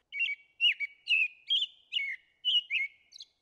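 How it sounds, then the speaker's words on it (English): A robin sings alone in a run of about eight short, bright chirping phrases with brief pauses between them, clear and fairly close. "A robin tugging an earthworm from the ground is a symbol of spring."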